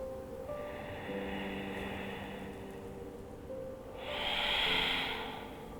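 Slow, deep yogic breathing in the Dirga three-part technique: a long, soft airy inhale followed by a louder, breathy exhale close to the microphone, with no talking.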